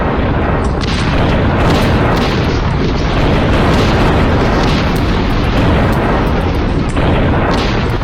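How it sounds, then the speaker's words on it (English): Heavy cannon fire at the Battle of Bosworth Field booms and rumbles without pause, a dense, loud barrage of explosions blending into one roaring wall of sound. "Commence the bombardment."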